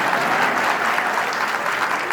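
Crowd applause at a political public rally in Warangal, Telangana, a loud, dense and sustained roar of clapping from a large gathering, steady throughout.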